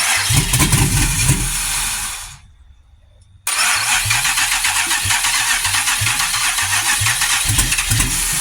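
A 2007 Grand Prix GXP engine running loud and close, cutting out briefly, then cranking and catching again into a steady, rough, pulsing idle with no throttle body fitted.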